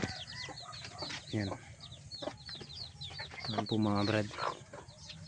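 Chickens in a simple homemade coop cluck and squawk in repeated bursts close by, with someone speaking briefly over the birds.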